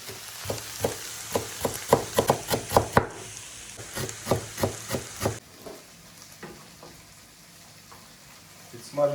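Potatoes sizzle in a frying pan, broken by a quick series of scraping, knocking stirs, then a softer, steady sizzle.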